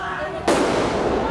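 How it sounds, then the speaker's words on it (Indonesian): Police fire tear gas during a street riot. A sudden loud blast cuts in and becomes a sustained, noisy roar, with voices in the mix. "polisi melepaskan tembakan gas air mata"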